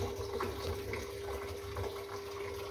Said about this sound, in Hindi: पानी ले रहा है।